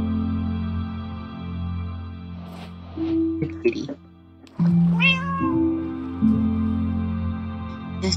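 A tamed witch's cat in a Minecraft swamp village meows several times, up close and clear, while someone talks over the rising and falling calls.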